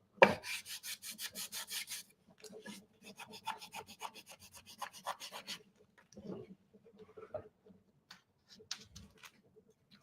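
A painted thrifted home decor piece being lightly distressed with close, rhythmic rasping strokes, two quick bursts of rubbing separated by a brief pause, then softer scattered scrapes and taps.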